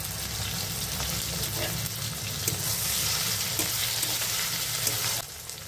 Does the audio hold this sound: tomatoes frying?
yes